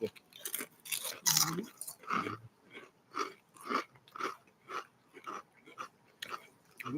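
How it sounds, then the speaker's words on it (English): Crunchy potato chips being chewed close to the mic, a steady run of about a dozen crisp bites and crunches in an even rhythm, with no talk over them. "Try another chip."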